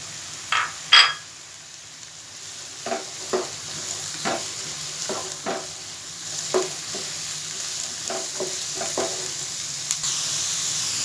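Chopped carrots and diced bell peppers sizzle in a pan while making vegetable macaroni, with a steady frying hiss and repeated clinks and scrapes of stirring spaced through the clip, no talking.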